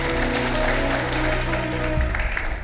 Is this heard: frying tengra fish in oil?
no